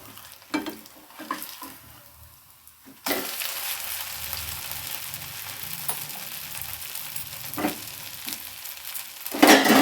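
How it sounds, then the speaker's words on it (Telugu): Bun dosa made from bansi rava batter frying on a pan: quiet clinks and scrapes at first, then a sudden loud steady sizzle as it is flipped, with occasional spatula taps and a sharp burst at the end. "రివర్స్ చేసి రెండో సైడ్ కూడా వేపుకోవాలి."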